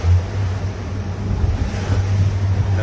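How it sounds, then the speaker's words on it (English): A Chris Craft boat powers offshore into an ocean wave between Pompano Beach and Coral Gables, with a constant low engine drone under heavy wind buffeting and rushing water, loud and close throughout. "there's a wave coming, so I'm gonna throttle into it"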